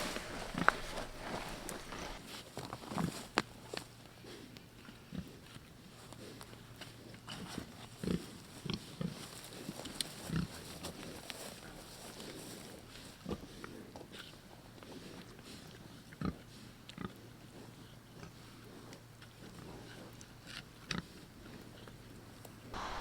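Pigs shuffle and grunt softly near their shelter outdoors, low faint snorts and rooting mixed with scattered footstep-like thuds and occasional sharper clicks over a quiet steady background.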